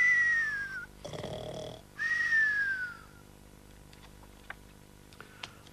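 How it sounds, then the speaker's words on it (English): A bear snoring in a children's story, heard as two long, drawn-out nasal snores with a breathy rumble between them, followed by quiet with a few faint ticks. "He just lay there smiling dozily and went right on snoring."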